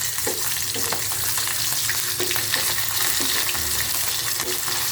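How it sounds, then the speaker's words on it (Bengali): Pieces of jhatka hilsa fish fry in hot oil in a pan, giving a loud, dense, continuous sizzle with faint crackles throughout, close up and with no voices. "উল্টিয়ে দিয়ে অপর পাশ ভাজা হওয়া পর্যন্ত একটু অপেক্ষা করি।"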